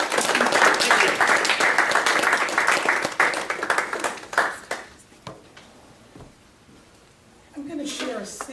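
An audience applauds loudly for a performer, with dense clapping that tapers off over several seconds to scattered claps, followed by a brief voice near the end.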